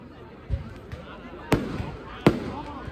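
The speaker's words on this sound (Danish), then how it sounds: "Det er eddermame med noget fesen, fyrværkeri, det her." Fireworks go off on Samsø, Denmark, with three sharp booming cracks spaced about a second apart, each with a short rumbling tail, over a background of voices.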